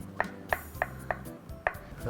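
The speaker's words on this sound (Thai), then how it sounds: "เต้าหู้นะครับ เราหั่นเป็นชิ้นเล็ก ๆ ครับ" Sharp knife chops tofu into small pieces on a cutting board, six crisp strikes at a steady, fairly quick rhythm, close up and with no talking.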